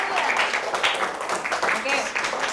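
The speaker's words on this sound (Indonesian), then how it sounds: "Beri tepuk tangan untuk Revania." A class of ninth-grade students applauds a classmate's persuasive speech, a short burst of brisk, dense clapping from a nearby group.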